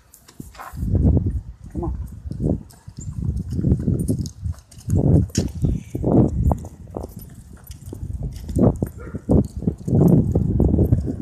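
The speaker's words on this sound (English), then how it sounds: "horse." Horse hooves clip-clop in a steady walking rhythm on an outdoor trail during bloodhound mantrailing training, fairly close, while a person talks now and then.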